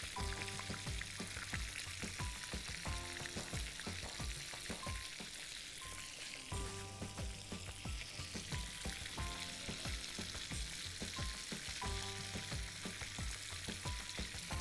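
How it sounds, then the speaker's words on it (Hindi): Kebabs fry in a pan with a constant, fairly faint crackling sizzle that runs throughout, while soft background music plays beneath it. "कबाब हमारे हो रहे हैं फ्राई"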